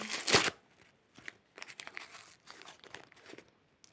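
A sharp rip of paper opens the clip, followed by soft crinkling and rustling as a packet is handled, quiet and close.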